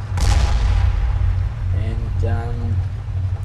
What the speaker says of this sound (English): I don't know why he's shooting the gun.